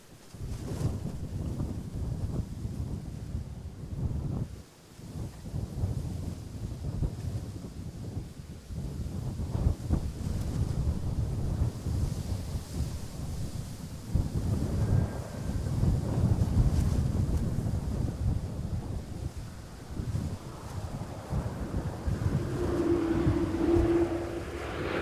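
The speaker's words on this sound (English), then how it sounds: "some of the wind gusts are getting stronger a little" Steady wind roars and buffets the microphone for the whole stretch at Schiphol Amsterdam Airport, with low rumbling gusts rising and falling and faint water sounds underneath.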